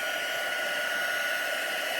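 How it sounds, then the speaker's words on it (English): Heat tool blowing hot air over embossing powder on a Christmas card, a steady close fan-and-heater roar that holds evenly throughout with no talk. "So you're going to just sit here, and you're going to take your heat tool,"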